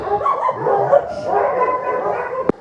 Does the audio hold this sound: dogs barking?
yes